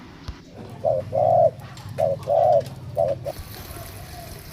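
Wild spotted doves coo during a decoy bird-catching session in Thailand, three clear paired coos in a steady rhythm at moderate distance, over a low background hum.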